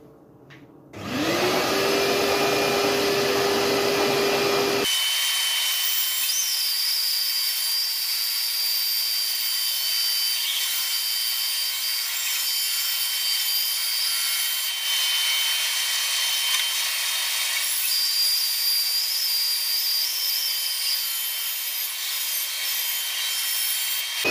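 Power saw cutting wood at a 45-degree angle for a French cleat: the motor spins up with a rising whine, then a loud, steady grinding roar runs for about twenty seconds, with no talking.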